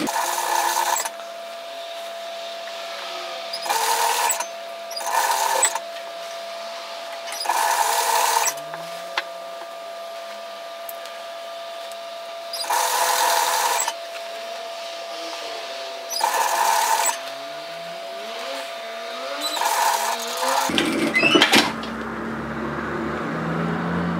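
A sewing machine stitches an apron dress in repeated bursts of steady whirring, pausing between runs, then stops with a brief clatter near the end; no voices.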